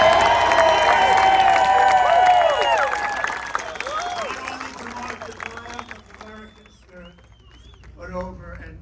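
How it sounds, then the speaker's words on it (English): A large rally crowd in Butler cheers and applauds at a Trump event, loud and dense at first, then thinning into scattered claps and shouts, with voices mixed throughout. "This is a big crowd."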